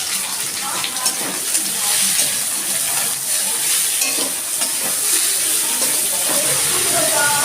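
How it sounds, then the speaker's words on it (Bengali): Onions going into hot oil with fried ginger and garlic for a chickpea bhuna, giving a steady close sizzle and hiss with stirring scrapes throughout. "এবার আমি পেঁয়াজটা দিয়ে দিচ্ছি।"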